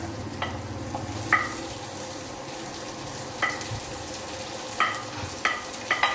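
Onion and garlic fry in a pan with a soft, steady sizzle, broken by a few sharp scrapes and clinks of stirring.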